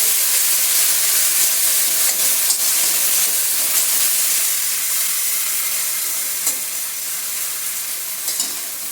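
Onion and garlic paste frying in a pan for a fish curry, a continuous close sizzle with occasional stirring scrapes and small spatters, slowly easing in loudness.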